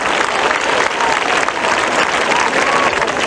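A stadium crowd at the 1983 Palermo Open polo final claps loudly and continuously, a dense, sustained wash of applause honoring the teams.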